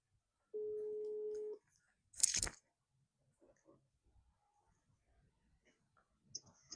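Phone call ringing tone, one steady electronic tone lasting about a second, followed by a sharp noisy burst, scattered faint clicks and a brief high tone near the end, all in otherwise quiet surroundings.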